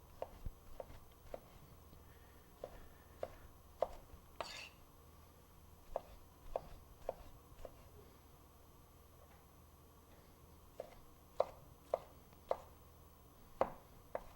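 A knife dices a tomato with its skin left on against a cutting board, producing light, fairly steady chops spaced through a quiet kitchen, with a few sharper knocks standing out.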